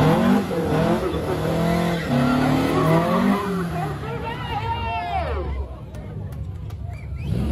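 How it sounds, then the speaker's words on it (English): A car spins donuts, its tires squealing in rising and falling wails over a steady engine roar, with crowd babble throughout. "as the car was doing donuts"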